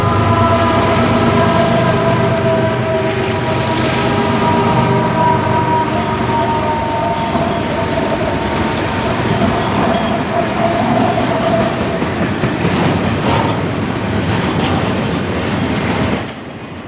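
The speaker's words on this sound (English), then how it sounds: "Train 141 is the first train riding the rails" An FEC freight train rolls along the rails in South Florida on a weekday afternoon, a loud, steady rumble with clanking wagons and rail clatter that runs continuously for the whole stretch before easing off at the end.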